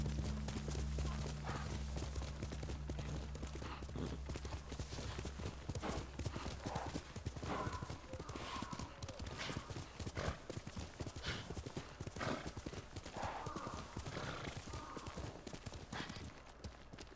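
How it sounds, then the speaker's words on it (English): Hooves clip-clop in a steady galloping rhythm, close and continuous, with a horse whinnying once over the pounding beat, in the video game Ghost of Tsushima. "Good horse."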